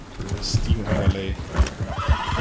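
A horse in the Red Dead Redemption 2 game whinnies and its hooves clop as it runs off, rhythmic close hoofbeats under excited talk.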